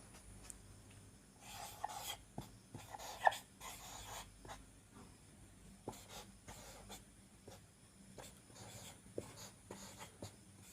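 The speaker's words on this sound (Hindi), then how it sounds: "तब तक मैं क्वेश्चन को लिखता हूं।" Chalk or marker writing a question on a board in a classroom, faint scratchy strokes in short irregular bursts, with no talking.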